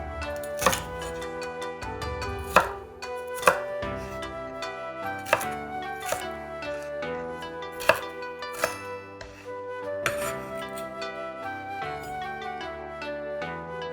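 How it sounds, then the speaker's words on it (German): A knife chops Turkish dolma peppers into pieces on a board, a steady run of sharp, close knocks spaced about a second apart, with music playing throughout. "Paprika in Stücke schneiden."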